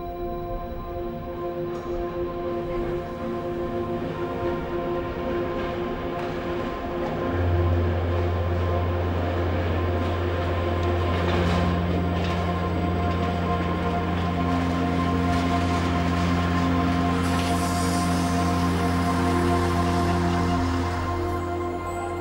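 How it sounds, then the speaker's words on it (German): Uerdinger railbus, the red Brummer, rolling into Traunstein station in southern Bavaria, a steady diesel drone joined by sustained low hums and rising tonal whines as it slows, heard close and unbroken. "Einfahrt in Traunstein, ein kleiner Bahnknoten im südlichen Bayern an der Strecke Salzburg-München."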